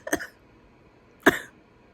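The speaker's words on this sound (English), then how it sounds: "Don't mind the cough." Two separate dry coughs from one person, a quick first cough followed about a second later by a slightly stronger second one, close and clear against a quiet room.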